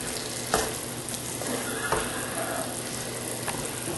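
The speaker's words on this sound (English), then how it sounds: "I'm going to stir this in here, and we're just going to let this simmer." Tomato sauce for a meatloaf simmering and sizzling in a pan, a steady close bubbling hiss with a few soft scraping stirs of a utensil, no voices.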